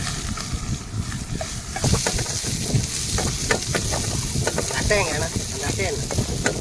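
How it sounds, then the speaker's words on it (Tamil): Mustard seeds and onions frying in hot oil in a home kitchen, a steady close sizzle with crackles, pops and stirring scrapes, while faint voices murmur underneath. "கடுகு போட்டுக்கிறோம் வெங்காயத்தை போட்டுக்கிறேன்"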